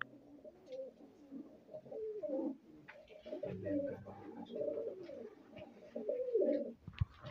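A female Punjabi high-flyer pigeon cooing up close, soft rolling coos repeating in steady phrases for several seconds with no talk over them.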